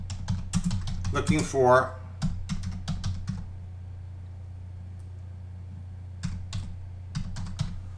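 Typing on a computer keyboard into a LinkedIn search, with quick bursts of close clicking key taps over a low steady hum, and a voice speaking briefly between the bursts.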